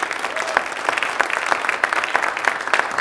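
An audience applauds after a poetry reading by an Irish poet, steady dense clapping from a crowd with sharper individual claps standing out, fairly loud throughout.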